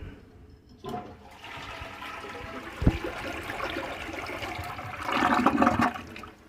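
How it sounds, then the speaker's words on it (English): A household toilet flushes after tank parts are replaced, a short click and a rushing gush of water, then a steady hiss and trickle as the tank refills, growing louder near the end. "flushes great. You can hear it starting to fill up."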